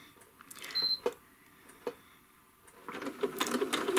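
A sewing machine makes a few short, quiet bursts of small stitches into a quilt, with pauses between runs and a louder patch of stitching at the end.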